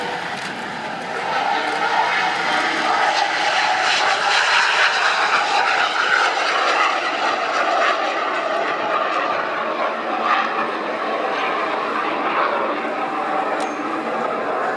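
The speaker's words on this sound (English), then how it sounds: "while we're waiting for the 262, who's just starting his takeoff run now" A restored Messerschmitt Me-262 B1-A jet at the ILA 2016 airshow begins its takeoff run, its engines a loud, steady roar that swells and holds for the whole stretch, with faint crowd sound behind.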